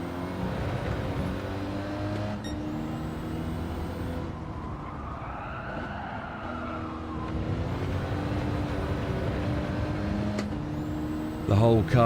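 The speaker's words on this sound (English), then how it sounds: "The whole car slid then." Clio Cup race car in a racing video game sliding, a sustained engine drone with tyre scrub and skid noise, loud and continuous, ending in a sharper squeal.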